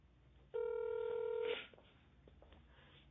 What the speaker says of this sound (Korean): 연결이 되지 않아 삐 소리